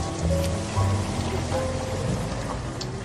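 Steady rain falls on surfaces as a dense, even hiss with scattered droplet patter, loud and continuous throughout.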